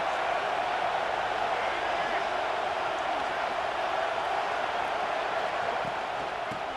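A dense, roaring football stadium crowd at a Michigan game fills the scene with steady loud noise, and a commentator's voice talks over it.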